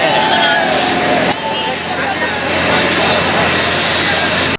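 A police water cannon blasts water during a riot-control drill in Paratwada, a loud, steady rushing spray that holds throughout with a brief dip partway, and a voice is heard faintly over it.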